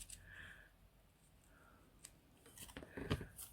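Scissors snip off the excess paper bits while a junk journal pocket is trimmed with an edger, a few quiet crisp snips spaced out, the sharpest cut landing near the end, close and fairly faint.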